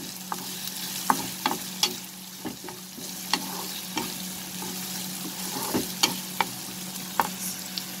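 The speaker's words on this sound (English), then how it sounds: "We'll saute the onion together." Onions sauteing in a pan for bhindi do pyaza, a soft continuous sizzle broken by repeated sharp clicks and scrapes of a spatula stirring, close and alone without speech.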